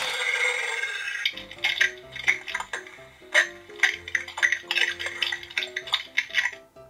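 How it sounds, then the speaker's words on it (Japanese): A large toy T-Rex dinosaur plays an electronic munching, chewing sound effect, heard as rhythmic crunchy bursts over a low tone, close and fairly loud after a brief hiss. "むしゃむしゃね、こう食べてる時の音がするっていう。"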